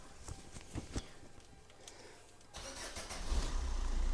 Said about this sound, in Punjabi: ਲੈ ਪਹਿਲਾਂ ਤੁਹਾਨੂੰ ਸਟਾਰਟਿੰਗ ਦਿਖਾਈਏ ਗੱਡੀ ਦੀ